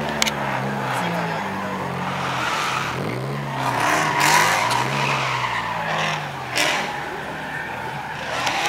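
Cars at a street car meet revving hard with screeching tires and engine roar that rises and falls, loud and close, with a few sharp peaks.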